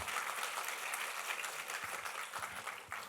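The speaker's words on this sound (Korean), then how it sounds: "박수 한번" An audience at a product presentation gives a short burst of applause, many hands clapping in a dense, even patter heard alone for a few seconds, fairly faint and distant.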